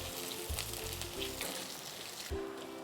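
Chopped large onions and garlic sautéing in a pan for a banana-flower curry base, a steady soft sizzle with occasional scraping stir strokes, close and fairly quiet, no talking.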